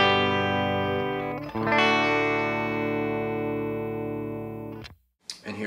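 A clean electric guitar chord through a Fender Blues Jr III tube amp rings out and sustains, another strummed chord follows and decays slowly, then a short scrape of string noise at the end.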